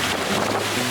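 A boat pushes out past an island into open ocean off Bali, with steady rushing wind, heavy microphone buffeting and waves slapping the hull, loud and continuous throughout.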